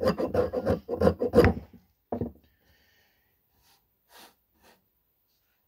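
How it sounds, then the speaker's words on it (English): A ferro rod scraped against its fatwood handle, giving a quick run of close, rough rasping strokes for about two seconds, then one shorter scrape and a few faint scuffs before it goes quiet. "You can scrape your ferro rod handle."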